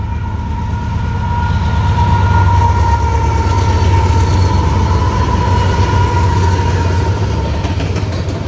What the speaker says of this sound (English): This is a manifest train making its way from Cincinnati's Queensgate Yard down to Nashville's Radnor Yard, led up by three locomotives